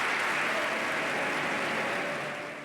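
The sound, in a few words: audience applauding, standing ovation for a speech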